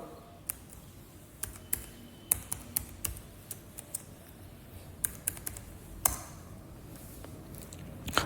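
A computer keyboard clicks under quick typing while a root password is entered, with irregular sharp keystrokes spread across several seconds, close and fairly quiet.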